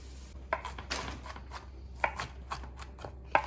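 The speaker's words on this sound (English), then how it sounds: "after I peel the garlic, just chopping it up" Peeled garlic is chopped with a knife on a board in a home kitchen, with sharp, close blade taps landing at irregular intervals over a low steady hum.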